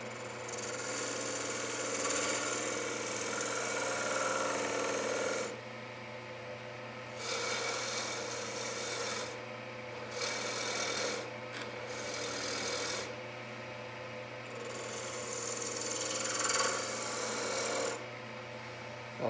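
A detail gouge cuts a small wood bowl turning on a lathe, making a rasping, scraping sound over the motor's steady low hum. The cuts come in repeated passes, each a few seconds long, separated by brief pauses.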